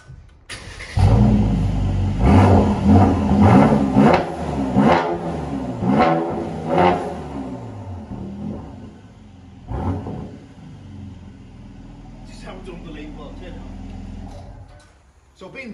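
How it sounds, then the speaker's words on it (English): A 2017 Mercedes-AMG C 43 3.0 4Matic Coupe engine turns over and catches, revving loudly in several throaty bursts before settling into a deep, rumbling idle close by. "I'm going to just start the car so you can have a listen to it because it's unbelievable."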